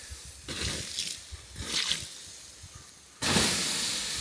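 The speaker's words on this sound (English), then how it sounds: "we're just going to slowly pour it around the area on top of the ash." Water from melted ice cubes poured slowly over campfire ash outdoors, hissing in soft bursts that fade and return before a louder, steady hiss takes over near the end.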